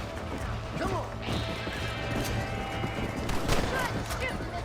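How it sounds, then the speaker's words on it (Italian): Gunshots aimed at coyotes in the video game Red Dead Redemption: a few sharp shots crack over a dense, busy game soundscape with hoofbeats and ambient noise. "Shoot Coyote. before they get to the animals!"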